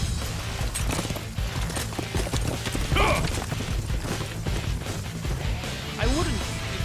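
Horse hooves clip-clop in Dynasty Warriors 8 under busy battle sounds, with mechanical clanks and whooshes, while a voice talks over the game.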